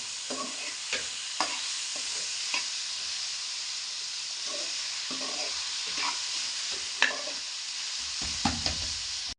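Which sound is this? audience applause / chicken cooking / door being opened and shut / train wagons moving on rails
chicken cooking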